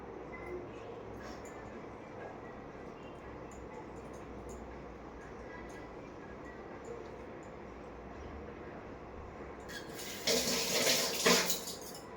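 Tap water gushes briefly into a sink in a home kitchen setting, a loud broadband rush lasting about two seconds near the end, preceded by low household background noise and quiet handling sounds.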